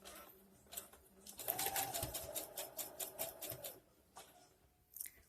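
A sewing machine runs a back-and-forth stitch on a blouse being extended, a quick burst of rapid mechanical stitching followed by a brief pause and a short restart, close and clear.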